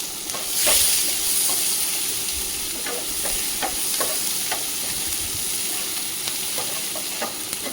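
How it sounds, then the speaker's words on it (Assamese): Onion with ginger-garlic paste, salt, turmeric and a little cumin powder sizzling steadily in a pan, with frequent scraping and stirring taps over a continuous close frying hiss, no talk. "এইখিনি ভালদৰে ভাজি ল'ম।"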